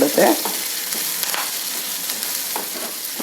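Chopped capsicum frying in a pan for diet bisi bele bath, a steady close sizzle with a few brief stirring scrapes, loud and without speech.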